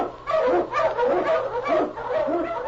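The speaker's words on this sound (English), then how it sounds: "King, the swiftest, strongest of Eskimo lead dogs, blazes the trail through storm and snow" A husky Eskimo sled lead dog barks in an old-time radio drama, several quick, close, full-throated barks in a loose rhythm with brief pauses.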